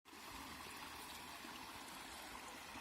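Clear natural spring water flows steadily from a source at a village fair, a continuous close rushing and trickling wash that begins abruptly and holds even throughout.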